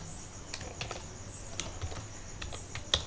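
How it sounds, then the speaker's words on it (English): A QBasic program is typed on a computer keyboard, producing quiet, irregular key clicks spread throughout, with one sharper keystroke near the end. "Now I will type in small program."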